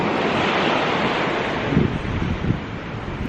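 Wind blowing across a rainy beach during a fishing session, with surf mixed in: a steady, loud, broadband roar that swells slightly toward the end, with no voices.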